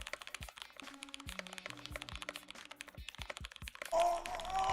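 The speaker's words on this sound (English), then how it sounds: "Here's the type test." Rapid typing on a computer keyboard during a typing test, with dense, fast key clicks in an irregular rhythm. Faint tones and background noise sit underneath, and a louder noisy burst comes near the end.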